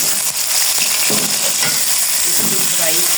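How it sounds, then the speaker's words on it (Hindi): Onions frying in hot oil for chicken biryani, cooked until pinkish: a steady, close sizzle with occasional stirring scrapes, no talking. "अब ऐसे प्याज रखेंगे गुलाबी गुलाबी"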